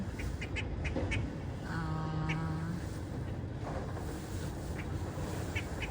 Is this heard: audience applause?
no